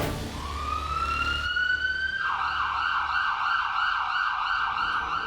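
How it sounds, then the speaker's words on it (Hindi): An ambulance siren in a TV drama scene, loud and close: a rising wail that then shifts into a rapid, repeating warbling tone, over a low engine rumble and no speech. "इसीलिए एम्बुलेंस बुला ली।"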